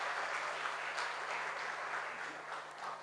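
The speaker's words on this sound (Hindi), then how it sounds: "तालियों के साथ स्वागत करें" Audience applause at a Hindi-language Sunday church service, welcoming people attending for the first time; steady, dense clapping throughout, fairly distant and even in level.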